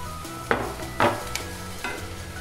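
Green chilies tossed into a hot pan of frying vegetables for restaurant-style veg chowmein, with a low sizzle under three sharp stirring scrapes and clinks spaced about half a second apart.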